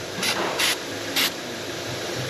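Short hissing bursts of Launch Power Loop Plus penetrating spray hit a bolt's threads on a Ford Kuga rear suspension, three quick sprays over a steady background fizz.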